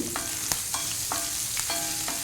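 Ginger, green chili, curry leaves and a dry red chili frying in hot oil over a medium flame, a continuous sizzle punctuated by about five rhythmic spatula strokes against the pan.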